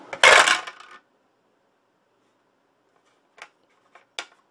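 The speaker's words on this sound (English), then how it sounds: "let's roll the dice and see how we do" Dice clatter across a tabletop during a Zombicide board game: one loud rattling roll, then silence, then a few small separate clicks as the dice settle or are picked up.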